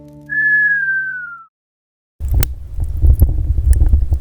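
A person whistles a single long, clear note that slowly glides downward, then after a short silence a burst of rough outdoor wind and rumble takes over.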